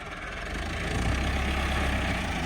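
A Super Seeder tractor engine in a Punjab, Pakistan wheat field idles with a steady low rumble, growing slightly louder and holding a constant heavy drone throughout.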